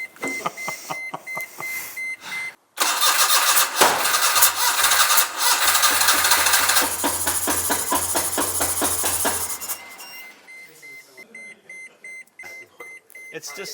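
An old Daihatsu Midget engine being brought back to life cranks with rapid rhythmic chugs, then catches and runs loud and rough for several seconds before dying back into cranking pulses and beeps. Voices speak over parts of it.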